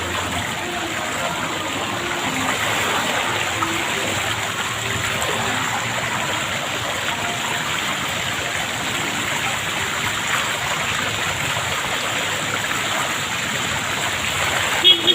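Floodwater rushes steadily near the Navotas navigational gate on a city street, a continuous loud watery gush that holds for the whole stretch with no break.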